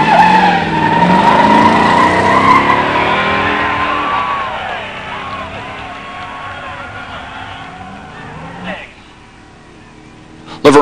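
A drag race between a 1967 Plymouth GTX Hemi automatic and a 1987 Buick Grand National, loud engines roaring close then fading away down the strip, with tire squeal and an announcer talking over it.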